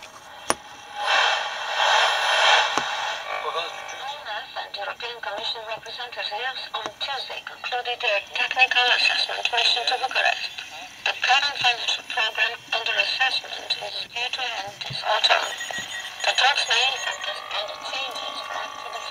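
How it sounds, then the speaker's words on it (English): A strong shortwave broadcast station picked up on a basic homemade FET radio receiver with limited selectivity, its voice-like modulated signal steady and fairly loud throughout, wrapped in hiss and crackly interference. "We'll listen now to strong radio station shortwave."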